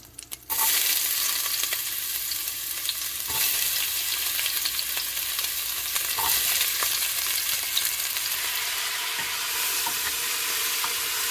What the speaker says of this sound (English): on the vegetables as I'm sauteing them